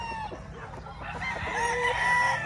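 White Kelso chickens on a farm crow and cluck, several birds calling in overlapping bursts at moderate distance, with crowing rising in the second half.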